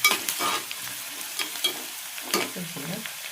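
Garlic chili paste fries in oil under repeated stirring: close scraping strokes and clatter over a soft, continuous sizzle, with no talking.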